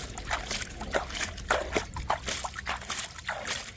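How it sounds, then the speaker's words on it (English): Water splashed by hand down a gold prospecting sluice on the Temu River, a series of irregular close sloshes and splatters over running water, with no speech. "I'll just splash the water down"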